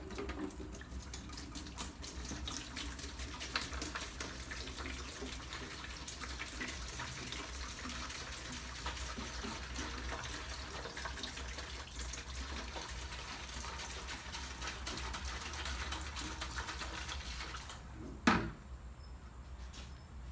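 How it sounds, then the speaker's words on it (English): Mineral spirits pouring steadily into a bath for soaking cosmolined gun parts, a continuous faint trickling gush that lasts about eighteen seconds and ends with a single knock. "I'm going to go ahead and give us a little mineral spirit bath."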